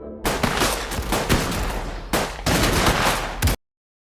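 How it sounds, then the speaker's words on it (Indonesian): Bursts of rapid gunfire from a film scene, loud and close, with a dense sustained volley, a short break, then another fierce burst before cutting off abruptly. "Suara tembakan tersebut terdengar oleh Arian"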